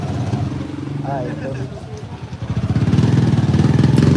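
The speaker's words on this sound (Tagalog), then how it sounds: "Ito ang 500 na motor?" A 500cc motorcycle engine idling and then revving up, its loud, throbbing rumble getting stronger near the end, with a person talking over it at the start.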